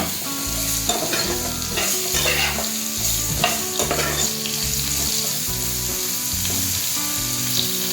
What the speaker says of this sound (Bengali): হলুদ গুঁড়ো দিয়ে ভালোভাবে নাড়াচাড়া করে